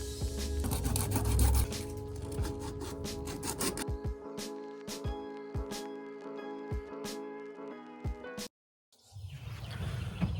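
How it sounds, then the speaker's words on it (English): Rapid rasping strokes of 80-grit abrasive cloth on a metal control arm held in a vise, loud at first then lighter scraping strokes, with a brief pause near the end. "I'm going to get it on the vise and start sanding"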